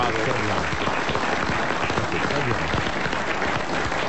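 Studio audience applause on a French radio comedy show, a dense, steady wash of clapping throughout with voices talking over it.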